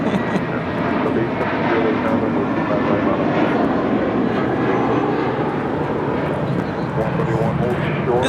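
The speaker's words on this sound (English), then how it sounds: "This is JetBlue Airways Flight 131 coming in from not New York, but Orlando on this A320 in the I Hearts New York livery." A JetBlue Airways Airbus A320 arriving at LAX gives off a continuous engine rumble and whine, steady and fairly loud, with voices talking over it.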